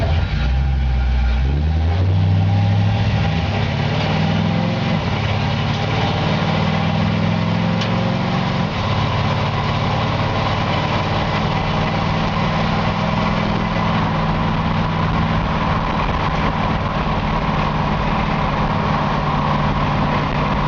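A 1953 Chevy 3100 rat-rod lowrider engine warms up on a cold day in Georgia, a loud, close, steady rumble that rises in pitch early on and then holds a continuous idle drone, with no voices.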